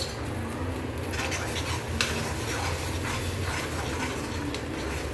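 A spoon keeps scraping and stirring chopped tomatoes with a little ginger-garlic paste frying in a pan. The loud, continuous scraping runs over a soft sizzle, with occasional clinks against the metal.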